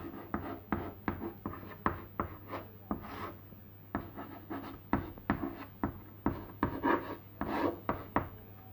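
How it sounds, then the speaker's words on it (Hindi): Writing on a board while working through linear equations in two variables, a steady run of close, sharp tapping and scratching strokes in an irregular rhythm, heard without any talk. "तो यही बात हम यहाँ लिखेंगे कि दोनों रेखाएं परस्पर समांतर होंगी"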